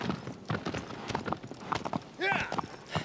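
A white horse galloping in the video game Shadow of the Colossus, with rapid rhythmic hoof clip-clops, a whinny-like call near the end, and a voice talking over the hoofbeats.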